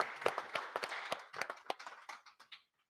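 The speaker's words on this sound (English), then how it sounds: "Can you please give a round of applause to Justin Wright" A youth forum audience giving a round of applause for a 15-year-old speaker, a short, modest patter of claps from a small crowd that thins out and stops near the end.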